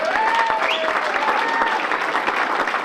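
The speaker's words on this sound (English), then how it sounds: "how about a round of applause for the chairman of tonight" Audience at a green tie gala applauding, a dense, steady wash of clapping from many hands with a faint whistle or cheer rising briefly over it.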